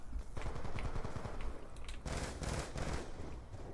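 Rapid gunfire rattles in the Black Ops 2 video game as shots are fired through a wall, bursts of quick cracking shots, fairly faint, with a few brief louder bangs.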